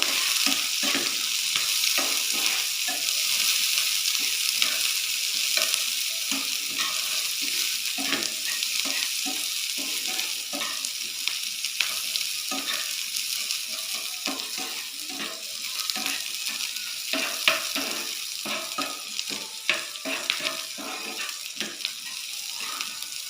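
Onions and green chillies sizzle steadily in a hot pan, with scraping stirs breaking through the constant crackle throughout.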